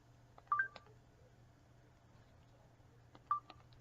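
Keypad tones from a Metro PCS cell phone, two short clusters of beeping dial tones about three seconds apart, close and clear over a low steady hum in a quiet room.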